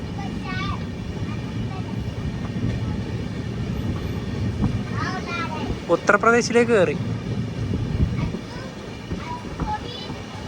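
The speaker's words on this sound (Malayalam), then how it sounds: "ട്രെയിനിപ്പോൾ സ്ലോയിലാണ് പോകുന്നത്." Madhya Pradesh Sampark Kranti Express rolling slowly through farmland, a low steady rumble of wheels and carriage with occasional squeals and rattles near the middle, heard from inside the train while someone talks over it.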